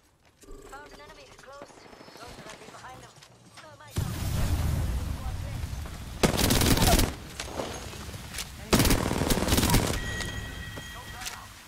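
Triple Take energy rifle gunfire in the Apex Legends shooter, loud sharp bursts of shots and impacts following a quieter stretch, with game effects and a voice talking around them.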